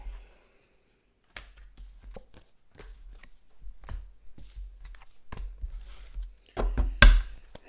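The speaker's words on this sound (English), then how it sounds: "Quick shuffle." Tarot cards being shuffled by hand, with a series of quick, soft riffling and tapping bursts separated by brief pauses, close and fairly quiet.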